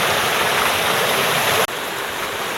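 A small creek carrying debris away after a broken dam, its water rushing steadily in a loud, close, broadband wash that briefly dips and then continues, with no voices.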